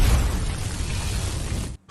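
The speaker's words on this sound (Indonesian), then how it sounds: "ia pun segera melepaskan ledakan energi dari teknik gerbang ajaibnya agar bisa segera mengakhiri pertempuran" Loud energy blast explosion from an animated fantasy battle, a dense continuous roar of rumbling booms and crackle lasting nearly two seconds before cutting off abruptly.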